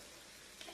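Breakfast batter fries in hot oil over a medium flame, giving a brief, even, close hiss of sizzling.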